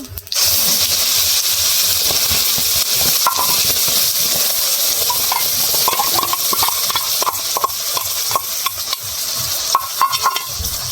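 Ground kohlrabi paste with nigella seeds sizzles loudly in hot oil in a home kitchen, a steady broad hiss throughout with scattered crackles and spatula scrapes, no talk.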